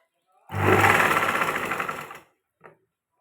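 A sewing machine stitches a piece of saree fabric in one close, steady burst of rapid needle rattle lasting under two seconds, then stops, followed by a brief faint click.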